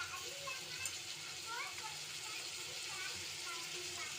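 Eggplant and drumstick pieces are stirred into softened onion and tomato in a pan for a dried-fish tamarind curry, giving a steady close sizzle with soft scraping and light clinks of the spoon throughout.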